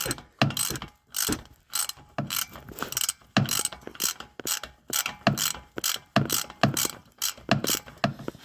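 A ratchet loosens a spark plug on a Honda Pioneer 500 side-by-side, a close series of rhythmic clicking bursts with short pauses between strokes, repeating steadily for about eight seconds with no speech.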